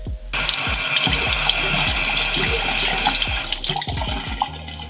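A kitchen tap runs steadily as a Jeffree Star x Morphe natural-hair makeup brush is rinsed under the water, with a dense continuous splashing rush and soft irregular knocks against the sink.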